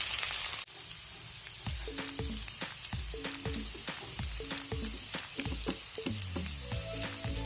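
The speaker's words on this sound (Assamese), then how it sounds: "এতিয়া মই নুডলছখিনি ফ্ৰাই কৰি ল'ম" Noodles fry with spices in hot oil, a steady close sizzle punctuated by repeated sharp scrapes and clinks of a utensil stirring in the pan.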